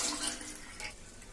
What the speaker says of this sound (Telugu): చూసాం 2 గ్లాసెస్ వాటర్ అండి.